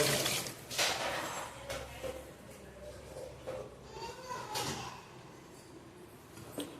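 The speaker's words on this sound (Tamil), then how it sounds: "இப்போ இதில் தண்ணி சேர்த்துக்கோங்க" Water poured into a cooking pot of mutton with turmeric, ready for pressure cooking for mutton chukka, comes through as uneven splashing and sloshing bursts, close and moderately loud, over low kitchen background noise.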